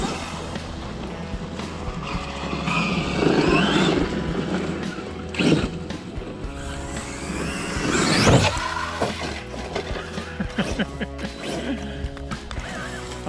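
An Arrma Outcast 8S XXL RC car runs and jumps on ramps outdoors, its electric motor whining and surging with loud bursts and thumps of landings, mechanical rattling throughout.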